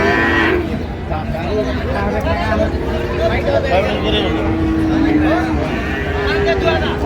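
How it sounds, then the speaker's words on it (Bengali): Cattle lowing amid a busy crowd at a Chattogram livestock market selling Sahiwal bulls, with people talking throughout and a steady hubbub of market noise. "বড় বড় ষাঁড় গরুগুলো যেখানে বেচা কিনা হচ্ছে"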